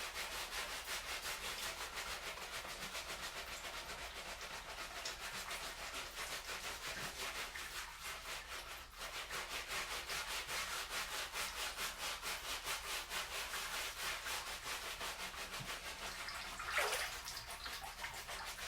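Scrubbing with firm pressure while washing in a tub, a steady close rapid rubbing and brushing that runs almost continuously at an even level, with no talk.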